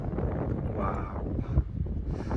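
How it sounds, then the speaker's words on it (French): Gusty mountain wind buffets the microphone on a hiking trail between Monêtier-les-Bains and Pelvoux, a loud, rumbling low roar that swells and ebbs, with a voice talking faintly underneath. "Je sais pas si vous m'entendez avec le vent."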